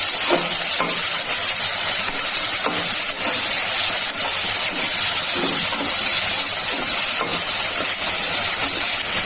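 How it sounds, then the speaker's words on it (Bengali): Prawns fry in a pan with a loud, continuous close-up hiss and sizzle and faint scrapes of stirring throughout, without any talk. "চিংড়ি মাছ দিয়ে রান্না করবো, তার জন্য মাছটা ভেজে নিচ্ছি।"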